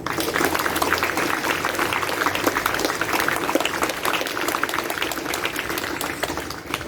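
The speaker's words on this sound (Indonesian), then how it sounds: "saya minta kita tepuk tangan" Applause for teachers at a school flag ceremony on Education Day, a dense steady clapping from a large outdoor crowd that goes on without a break.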